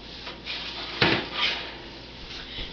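A baking tray of home-baked food comes out of a kitchen oven and lands on a cooling rack with one sharp metallic clatter amid faint rattling and room noise.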